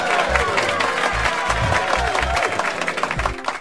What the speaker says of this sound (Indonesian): Ya tepuk tangan untuk Pak Pur ya.